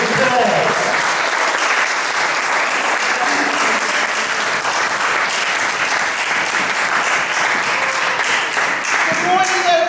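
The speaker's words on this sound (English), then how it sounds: "Let's give her a nice warm welcome applause." Audience at a health summit applauds to welcome the event's MC, dense sustained clapping filling the room loudly and evenly for the whole stretch, with scattered voices faintly beneath.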